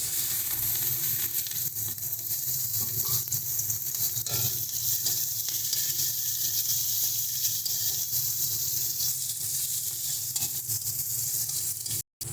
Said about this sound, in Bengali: কড়াইয়ের মধ্যে আবারও তেল দিয়ে দিয়েছি। দিয়ে দিচ্ছি পেঁয়াজ কুচি